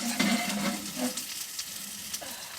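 Bacon and scallops sizzle and crackle in a pan over an open campfire, a steady close frying hiss with occasional louder pops and soft scraping stirs.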